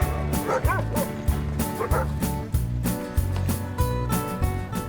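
A team of sled dogs in wintry Charlevoix, Quebec, at about minus 20 degrees, barks and yips in a loud, relentless chorus of rapid, rhythmic barks close by.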